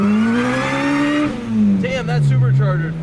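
Honda EK9 Civic Type R engine revving loudly up and down, a strong rising and falling engine note with a brief dip between revs, up close, with people talking over it.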